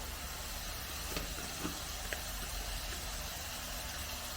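Tomatoes and onions sautéing in a pan, a steady broad hiss of sizzling with a few faint clicks, fairly even in level and with no talking.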